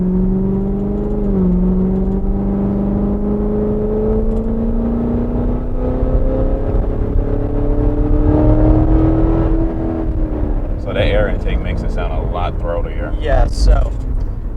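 A 2017 Chevrolet Corvette Grand Sport accelerates hard. Its engine drone climbs steadily in pitch through a long pull, then eases off as louder rustling bursts and noise take over toward the end.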